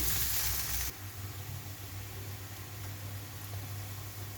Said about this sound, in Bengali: পেঁয়াজ দিয়ে দিলাম, তেল দিলাম, এখন এটা ভেজে নিই।